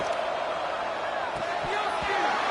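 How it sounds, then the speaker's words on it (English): Stadium crowd noise at a college football game against UF, a steady roar that fills the whole stretch with a few sharp thumps and a brief whoop rising out of it. "Listen to the crowd energy here in the early going."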